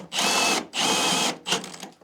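Three bursts of a power drill whirring at high speed, the first two long and steady, the last one shorter, loud and close with no talking.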